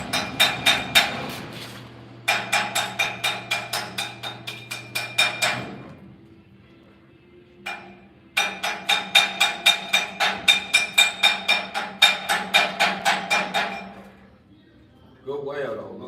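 A hammer chips slag off a fresh weld in rapid, sharp metallic clinks, delivered in several bursts of steady strikes with short pauses between them.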